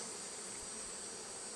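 Bees from a modified Warre hive hum in a steady, continuous buzz close by while a cluster hangs from the bottom of a frame during an inspection, with no talk.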